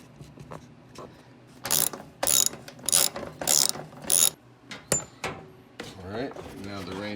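A hand ratchet loosens bolts on the rain tray of a Porsche 914. It makes a run of about six short, sharp clicking bursts close by, and a voice comes in briefly near the end.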